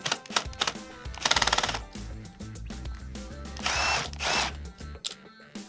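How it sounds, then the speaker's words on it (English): A power drill backs screws out of a Steelcase chair arm in short bursts of whirring with ratcheting clicks between them, two longer runs standing out, close and loud. "Our next step will be removing these 2 screws."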